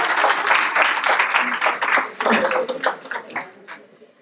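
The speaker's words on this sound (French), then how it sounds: "On peut l'applaudir, s'il vous plaît." An audience claps together at a Grand Paris Sud higher-education event, a dense burst of applause that thins out and fades over a few seconds.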